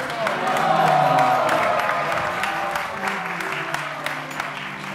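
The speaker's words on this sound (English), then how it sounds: "One more huge Haribol and round of applause for His Grace, Kirtan Premi Prabhu" Audience applause and crowd noise fill a kirtan gathering at the LA Kirtan Mela, with steady clapping and some cheering throughout and a faint voice rising briefly near the start.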